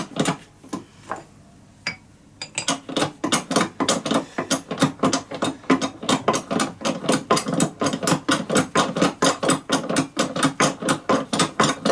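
A press seating a bearing race in the tail piece of a 5HP18 / A5S310Z automatic transmission through its final few millimeters, heard as a steady run of sharp, evenly spaced metallic knocks, loud and close, after a brief quieter start.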